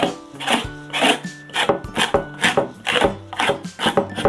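Pumice texture gel scraped onto a painting with repeated quick rasping strokes, close and fairly loud, in an irregular rhythm of about eight to ten scrapes, no talking.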